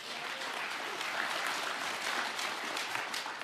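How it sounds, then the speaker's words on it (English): Audience applause at an Alberta political event with Premier Jason Kenney, a dense, steady wash of many hands clapping close and loud throughout, with no speech over it. "I don't know why you guys are applauding for him."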